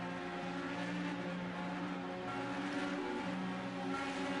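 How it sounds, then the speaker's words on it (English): An IndyCar in the racing game Project Cars 2 gives a continuous droning engine and exhaust note that holds steady, with no talk over it. "As we hear the exhaust go."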